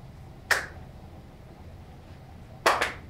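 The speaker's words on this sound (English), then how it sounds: "all we're doing is just clapping in unison around this one until it gets back to me" People clap one after another in turn around a circle: a single sharp clap, a pause of about two seconds, then two quick claps close together, set against quiet room background.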